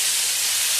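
Velvet beans stir-fried in a hot wok, heard as a steady, bright sizzling hiss, close and continuous without pause.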